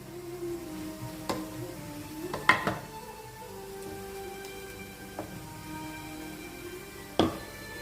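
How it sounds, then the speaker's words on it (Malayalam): Ground masala paste goes into a pan of cooked tomato and onion, giving a quiet, steady sizzle with a few sharp metal clinks of a spoon against the pan. "നമുക്കിതിനകത്തോട്ട് നമ്മൾ അരച്ച് വെച്ചേക്കുന്ന അരപ്പ് ചേർത്ത് കൊടുക്കുക"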